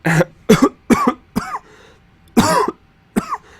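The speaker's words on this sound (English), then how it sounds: "Sorry, I coughed there." A run of harsh, close coughs in quick bursts, about six in total, with a short pause partway through.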